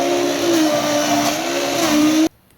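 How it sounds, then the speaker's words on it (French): A blender purées cooked coral lentils into a velouté, making a loud, steady whirring drone with slight pitch shifts that runs for about two seconds and then stops abruptly. "mixez avec votre robot ou blender pour obtenir un velouté"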